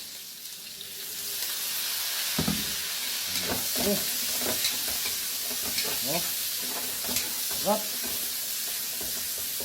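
Tomatoes frying in a pan with a steady hiss of sizzling oil, broken by repeated scraping and stirring strokes of a spatula at moderate distance.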